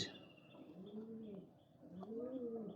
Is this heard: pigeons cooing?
yes